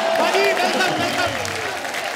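A studio audience applauds for Ajay Devgn on a television comedy show stage, a dense, steady wash of clapping with a tonal musical layer running beneath it.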